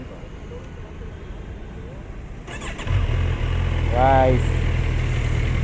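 A Kawasaki Versys 1100 four-cylinder motorcycle engine fires up partway through and settles into a steady, loud idle close by, with a voice speaking briefly over it.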